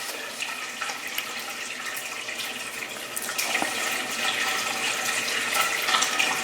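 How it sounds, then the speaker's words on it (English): Water drains steadily out of the tank of a portable dip system, making a continuous rushing, splashing flow that grows slightly louder partway through, with no talking. "so you hear that draining? Yeah, it's draining all right."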